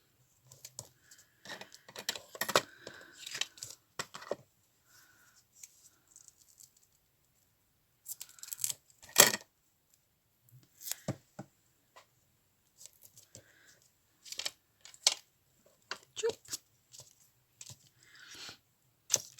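Scissors snip through paper in scattered bursts of crisp cutting, with quiet pauses and some rustling between the cuts, close by and fairly soft.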